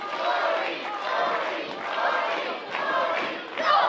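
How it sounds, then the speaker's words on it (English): A live independent women's wrestling crowd at a taped event cheers and chants in rolling waves, loud collective shouting that swells and dips in a loose rhythm across the hall. "The crowd is solidly behind Marti Belle in this contest"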